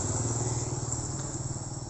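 A motorcycle engine runs steadily at a low idle with a soft, even chugging pulse, moderately quiet and close, with no voices.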